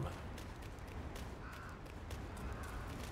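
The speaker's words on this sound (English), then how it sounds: "Me too, bird. Caw, caw," A bird caws in the video game Black Myth Wukong, faint and distant within a dense, noisy ambient game soundscape.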